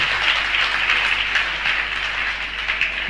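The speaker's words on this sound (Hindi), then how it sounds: "तालियां तालियां तालियां।" Audience applause at a Jain religious discourse session, a steady dense wash of many hands clapping at moderate loudness throughout, with no voices over it.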